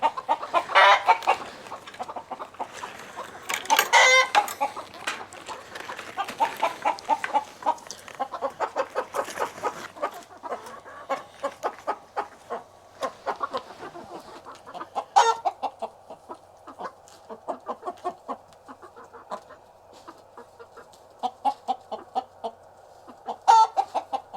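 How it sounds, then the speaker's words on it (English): A flock of chickens clucking and squawking nearby, busy overlapping calls that come in bursts, livelier at first and then settling into scattered clucks. "it looks like all the chickens can see that I'm bringing some goodies"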